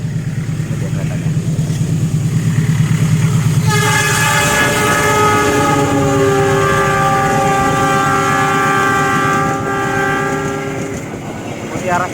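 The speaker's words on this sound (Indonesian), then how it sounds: "Ini dia keretanya." A passing train on an Indonesian railway line roars close by with rumbling wheels, then sounds a loud, sustained horn for several seconds before the noise fades.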